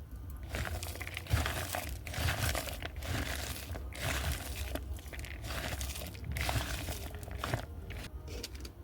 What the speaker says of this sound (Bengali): এটা ভালো করে চটকিয়ে আমি লবণ দিয়ে প্রথমে একটু জলটাকে বের করে নেব